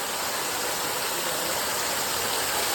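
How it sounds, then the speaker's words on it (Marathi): A waterfall rushes in a dense, steady hiss of falling water, loud and unbroken for the whole short stretch with no voices over it. "दिसतो का धबधबा"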